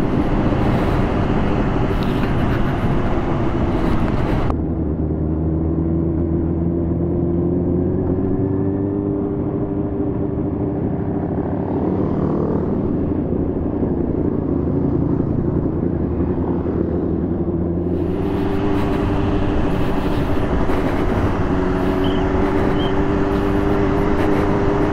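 A 2018 Honda CBR 600 RR sport bike runs under a rider, its inline-four engine droning with steady harmonic tones and heavy wind rush, the pitch shifting as the bike is ridden, with no talk.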